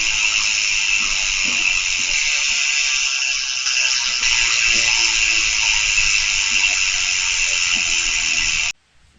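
A Koozer XM 490 rear mountain bike hub with 72 points of engagement freewheels in a fast, steady buzz of fine ratchet clicks, close and alone, then cuts off abruptly near the end.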